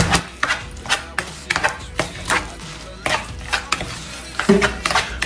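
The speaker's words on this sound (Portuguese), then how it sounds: "Agora eu vou misturar e vou deixar ele marinando um pouco nesse tempero aqui" Raw chicken being mixed with olive oil and seasoning in a bowl for a marinade, giving a run of short, fairly close wet knocks and scrapes in an irregular rhythm with no talking.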